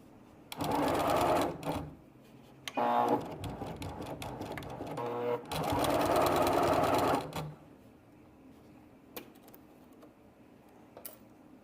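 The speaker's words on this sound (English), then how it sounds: "And now we're going to sew around the edges." A sewing machine stitches around fabric edges in three loud runs of rapid motor whirring, separated by short pauses and faint handling clicks, with quiet ticks near the end.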